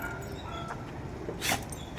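A dog yips and whimpers in short bursts during rough play, fairly close, over steady background noise.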